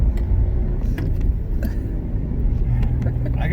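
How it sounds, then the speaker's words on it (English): A manual car being driven gives a low engine rumble and road noise from inside the cabin, with people talking over it. "I don't like driving this car."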